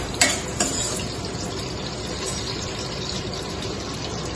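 Sliced onion and green chillies are stirred in hot oil in a pan, giving a steady sizzle with a couple of early clinks from the spoon.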